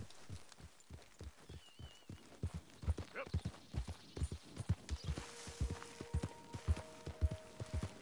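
Horse hooves clip-clop at a steady walking rhythm in the video game Red Dead Redemption 2, each strike close and distinct, with faint ambient tones and a brief voice-like sound in the background.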